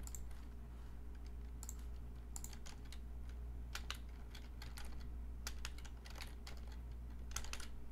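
Faint, scattered clicks of computer keyboard keys, typed as input to a snake game running in the MARS MIPS simulator, sounding as sparse taps over a steady low hum.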